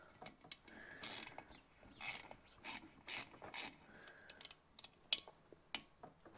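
Small spring-loaded bolt being worked out of a Citroen 2CV engine during a top-end rebuild, giving a string of short metallic clicks and ratcheting rasps, close and fairly quiet, with no talking.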